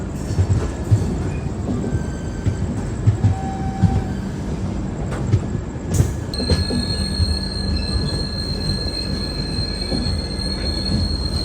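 Kochuveli–Shalimar AC Superfast Express running through Kerala, with continuous close rolling rumble, wheel clatter and several high metallic squeals of wheels on rails, a sustained whine in the second half, no talking.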